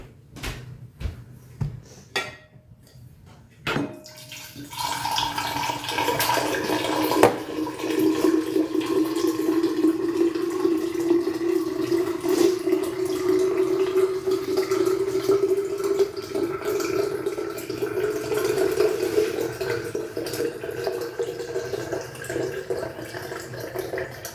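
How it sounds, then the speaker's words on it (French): Filtered water poured steadily into a Thermomix bowl, a continuous close rushing stream lasting about twenty seconds after a few clicks and knocks of handling. "750 g d'eau. Voilà, je vais chercher mon eau filtrée."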